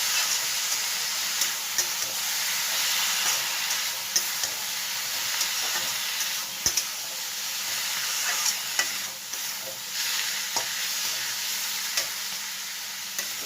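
Spices stirred into vegetables frying for egg noodles make a steady sizzle across the whole stretch, broken by repeated scrapes and clicks of a spoon against the pan. It sounds close and moderately loud with no talking.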